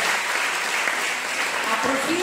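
Audience applause at a 2023 school music recital, a steady dense clapping wash filling the whole moment, with voices faintly mixed in beneath it.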